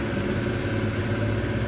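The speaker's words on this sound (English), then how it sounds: "Now turn on the engine" A motorcycle engine idles steadily and close by, a constant low rumble holding an even pitch throughout with no voices over it.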